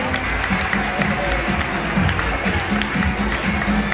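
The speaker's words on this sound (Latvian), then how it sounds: "Aplausi pirmā, otrā līmeņa dejotājiem" A crowd claps for dancers at an award ceremony, a dense and steady wash of applause filling the whole stretch, loud and close, with voices mixed faintly into it.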